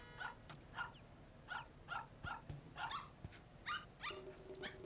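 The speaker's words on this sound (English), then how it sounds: "Stop barking!" A shepherd dog barks in a quick, rhythmic series of about nine sharp barks at a moderate distance, fairly quiet, with no one talking over it.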